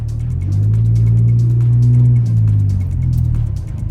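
A right-hand-drive Suzuki Jimny with a manual gearbox, imported from Japan, pulls away. Its engine gives a close, loud, low hum that swells, dips briefly and rises again, with no talking over it.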